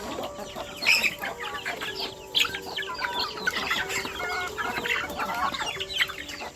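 Farm chickens cluck busily while pecking at feed mixed with protein such as snails and soaked fish heads, the calls overlapping in a steady, close chorus with no one talking.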